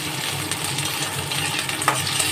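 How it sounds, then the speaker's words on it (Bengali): Tomato, green chili and chopped onion stirred together in hot oil, giving a steady close sizzle and frying crackle with faint spoon scrapes throughout, no voices. "একসাথেই একটু নেড়ে চেড়ে নেব।"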